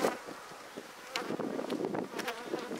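Honeybees buzzing inside a top bar hive during an early spring inspection, a steady close swarm drone with individual bees flitting past the microphone, some wind noise, no talking.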